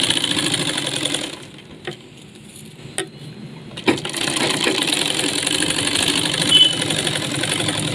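A sewing machine stitches the end of a navy blue pant with a close mechanical whir. The whir drops out briefly in the middle between a few sharp clicks, then resumes steadily.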